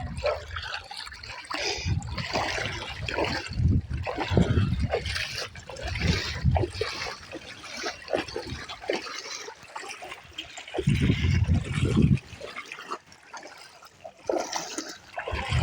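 Floodwater after heavy rain runs through a flooded house in a village near Chavakachcheri, a close, continuous rush and trickle with surging swells and brief quieter gaps.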